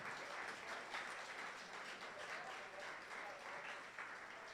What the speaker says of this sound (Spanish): Pues damos un fuerte aplauso a Ismael Méndez